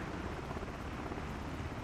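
Airplanes taxiing at an airport in Microsoft Flight Simulator 2024 give a steady, broad engine rumble and whine, continuous and moderately loud with no talk.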